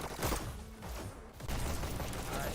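SMG gunfire in a VR esports league match, a dense, continuous rattle of rapid shots that stays steady and fairly close throughout, with a brief dip in the middle before it resumes at full intensity.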